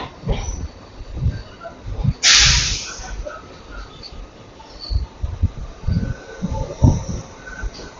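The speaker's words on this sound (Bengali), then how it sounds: "হলদিয়া লোকাল বেরিয়ে যাচ্ছে" A local train on the Howrah–Haldia line, the Mecheda local, pulls out of a station with a low rolling rumble and rhythmic wheel thumps, broken by one loud, short burst of hiss near the start.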